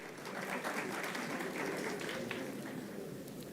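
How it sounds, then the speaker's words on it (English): An audience at a college degree distribution ceremony claps in a dense, steady wash of applause that sounds faint and somewhat distant throughout. "thank you for clapping"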